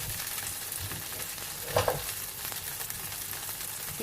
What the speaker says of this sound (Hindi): बटर मेल्ट हो रहा है, इसमें डाल दूंगी मैं गार्लिक, गार्लिक को अच्छे से सौते कर लेंगे